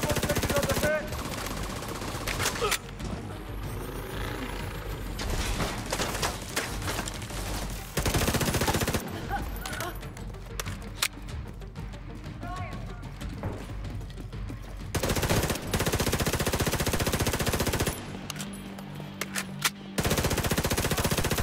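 A deployed turret in The Division 2 firing long bursts of machine gun fire, loud and sustained, broken by short pauses and mixed with other combat noise and occasional voices.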